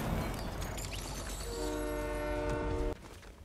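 A train in the video game Fortnite sounds its horn in a loud, sustained multi-tone blast over rumbling wheels, cutting off abruptly near the end and leaving the rail noise quieter.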